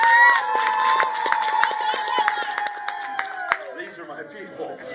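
Audience at a magic show clapping and cheering, loud and close, with a steady wash of claps and shouts that fades after a few seconds into scattered crowd noise.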